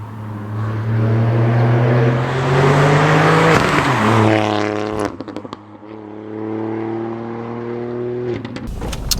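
A Ford Fiesta ST Mk8 engine heard from inside while driving: a loud, steady drone that rises in pitch under acceleration, drops sharply at a gear change, then climbs again, with brief clicks and knocks near the end.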